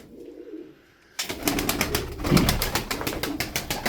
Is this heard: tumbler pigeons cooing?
yes